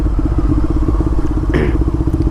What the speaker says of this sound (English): we are driving a 2013 Ducati Diavolo Chromo